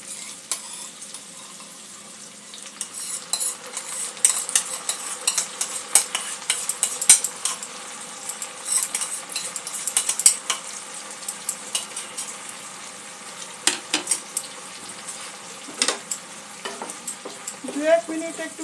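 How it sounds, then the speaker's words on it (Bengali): Green chillies and sauce fry in a pan with a bright, crackling sizzle, punctuated by frequent metal-on-pan scrapes and clinks as they are stirred close by, without any talking. "একটু নাড়াচাড়া করে নিয়ে"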